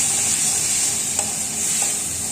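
Green chillies and spices frying in a pan while being stirred: a steady, close hiss of sizzling oil with a couple of soft scraping stirs, no voice.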